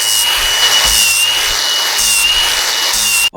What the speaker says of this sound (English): I have in my hand a flap disc